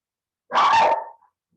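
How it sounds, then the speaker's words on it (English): A small country-dwelling dog lets out one short, sharp bark, close and fairly loud, with silence before and after. "I've got a new little dog that lives in the country, and that she barks at every little thing"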